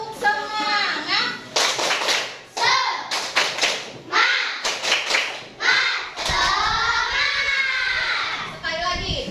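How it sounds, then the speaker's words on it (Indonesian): Fourth-grade schoolchildren in a classroom perform a rhythmic tepuk semangat clap chant, bursts of sharp group clapping alternating with loud shouted chanting voices, close and energetic. "Coba tepuk semangat."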